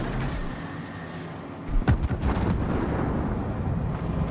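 Battleship guns from World of Warships fire in a heavy rumbling salvo, a few close booms in quick succession rolling over a low engine-like drone.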